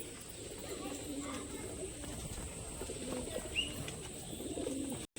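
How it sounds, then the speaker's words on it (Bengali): A female pigeon of the face beauty variety gives soft, low coos close by against a steady background hum, with no voices present. "এটা হচ্ছে ফেস বিউটি, একটা মাদি পায়রা।"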